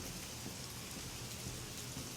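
Rain falls outside in the horror video game The Medium, a steady, soft, even patter of drops with a faint rumbling undertone, quiet and continuous with no voices.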